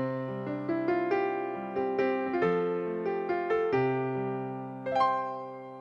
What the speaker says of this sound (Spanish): El piano.